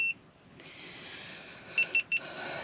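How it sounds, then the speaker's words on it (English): Three short electronic beeps in quick succession over a faint hum, preceded by a brief single tone at the start. "camera just went beep"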